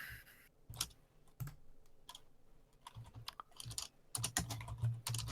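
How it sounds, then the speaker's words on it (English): Fast bursts of clicking keystrokes on a computer keyboard come close and fairly quiet, irregular clusters with short pauses and a denser run near the end, with no talking. "Typing."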